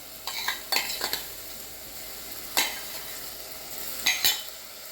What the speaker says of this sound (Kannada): ಇದು ಚೆನ್ನಾಗಿ ಫ್ರೈ ಆದಮೇಲೆ ಇದಕ್ಕೆ ಮೊದಲೇ ತೊಳೆದಿಟ್ಕೊಂಡ ಅಕ್ಕಿಯನ್ನು ಹಾಕಿ